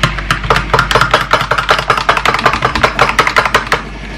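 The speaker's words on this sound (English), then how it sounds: "And I give it a quick stir." Quick, rhythmic clinking of a spoon stirring Starbucks single-origin Colombia coffee in a cup, about twenty close, bright taps in steady succession with no talking.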